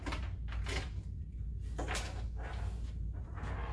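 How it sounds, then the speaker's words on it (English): Key locking the rear compartment door of a DS200 voting machine, a few close clicks and light metallic knocks and rattles scattered over steady background noise. "we'll lock the rear compartment door."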